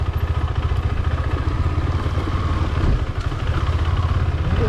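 A motorcycle engine, an Xpulse 200 or KTM Adventure 390, runs steadily up close with a loud, low throbbing idle and mechanical clatter, holding even throughout.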